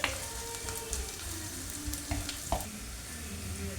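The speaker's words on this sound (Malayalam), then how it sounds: "പച്ചമുളകും കറിവേപ്പിലയും ഇടാം കേട്ടോ അത് ഇട്ട് നന്നായിട്ട് വാടി വരട്ടെ" Green chillies and curry leaves fry in hot oil in a pan, giving a continuous close crackling sizzle with occasional stirring scrapes and no talking.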